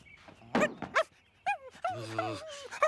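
A cartoon dog whimpers and whines in short, rising and falling bursts, close and fairly loud. A long quavering whine comes near the end, with brief pauses between cries.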